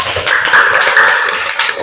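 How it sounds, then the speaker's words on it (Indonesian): A classroom of students gives a short burst of applause for a presenting group, brisk and close, lasting under two seconds. "Tepuk tangan untuk kelompok"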